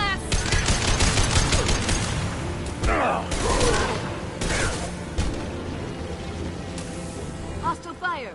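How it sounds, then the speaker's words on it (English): Hostile gunfire in Mass Effect 2 on Insanity difficulty, with dense rapid bursts of shots and whizzing impacts crackling steadily throughout, and a voice speaking over the firefight. "Hostile fire."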